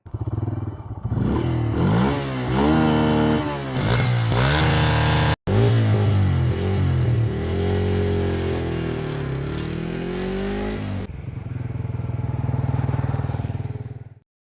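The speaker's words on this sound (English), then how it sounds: "so let's start riding this all new Bajaj Freedom 125 CNG motorcycle" A Bajaj Freedom 125 CNG motorcycle engine runs loud and close, revving up and shifting pitch repeatedly as the bike rides along the road.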